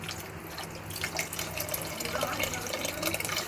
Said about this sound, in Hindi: ये दाल हम गलने के लिए चढ़ाएंगे, इसमें थोड़ा पानी डालेंगे।